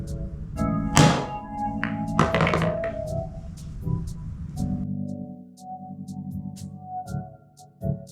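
A cue ball is struck sharply downward for a massé curve shot on a pool table, giving a firm close thunk near the start, then a few lighter clicks and taps over a steady tonal hum.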